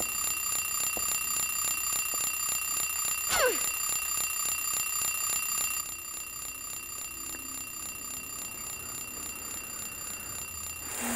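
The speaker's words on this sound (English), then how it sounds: "Oh, it's an alarm. I thought that was a phone for a second." Electronic alarm clock ringing in Silent Hill 3, a steady rapid pulsing beep that repeats without pause and drops slightly in level partway through, with a brief sweeping tone near the start.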